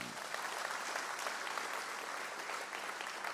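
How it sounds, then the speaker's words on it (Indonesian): A congregation applauding in church during a sermon, a continuous wash of clapping at moderate level with a faint murmur of voices under it. "Tepuk tangan yang keras lawan"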